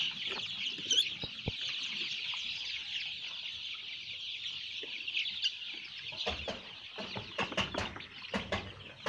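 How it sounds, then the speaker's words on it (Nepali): Hundreds of chickens cluck and chatter continuously on a Nepali poultry farm of about 700 birds, making a dense, steady flock din with sharp bumps and knocks near the end. "यहाँ मेरो 700 कुखुरा छ"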